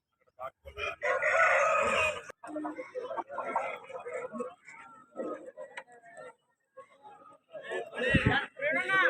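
At a rooster market in Vijayawada, a rooster crows loudly near the end, after several seconds of people talking nearby.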